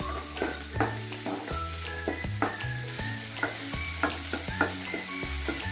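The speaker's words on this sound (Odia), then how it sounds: "କଟା ହୋଇ ରଖିଥିବା ପିଆଜକୁ ଦେବା। ବର୍ତ୍ତମାନ ତାକୁ ଭାଜିବା।" Chopped onions fry in oil, a constant bright sizzle with occasional stirring scrapes, heard under melodic background music.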